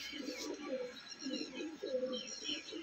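Pigeons coo repeatedly in a rolling, throaty rhythm beside a net enclosure near a house, close and steady with faint background bird chirps and no talking.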